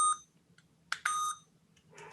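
A MiraMate laser device gives short, bright electronic beeps when switched on: a faint blip comes first, then two sharp close beeps, the second one held briefly, in a quiet room with no one talking.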